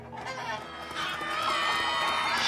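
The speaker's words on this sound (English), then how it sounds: "Out of my way, chickens!" Chickens in the video game Minecraft Story Mode squawk and flutter against loud, dense game music and action noise, the whole mix growing steadily louder.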